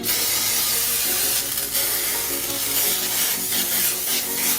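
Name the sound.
vegetable oil spray on cake pans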